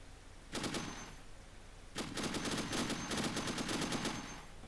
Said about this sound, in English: is that supposed to be a Browning or 50 cal? I'm guessing Browning.